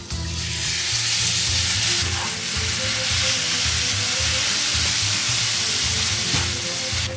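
Crushed tomatoes sizzle and fry steadily in a hot pan with spices for a prawn and chorizo jambalaya, a loud continuous crackling hiss with bursts of stirring, no talking.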